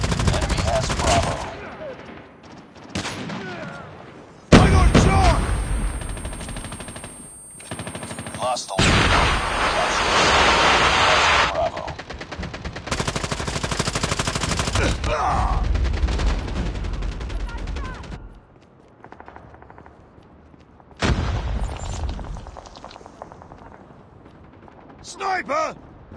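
Bursts of automatic and single gunfire from Call of Duty Mobile in a 10v10 match fire in loud, choppy volleys separated by short quiet gaps, with occasional voices in between.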